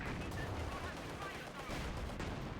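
Tank guns fire in a WWII real-time strategy game, with T-34, Panzer IV and Su-85 tanks in battle, giving dense, continuous crackling gunfire and muffled impacts. The sound is fairly faint and has no clear breaks.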